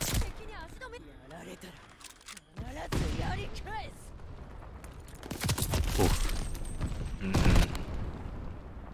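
Bursts of gunfire and booming explosions from a Call of Duty: Vanguard beta match on PS5 crackle and thud irregularly, with a loud blast near the end, while players talk over the combat.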